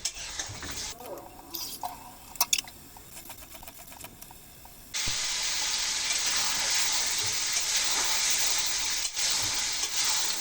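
Egg, potato and pea curry being stirred with a few scrapes and clinks, then a sudden burst of loud, steady sizzling as water for the gravy hits the hot pan, continuing with a brief knock near the end.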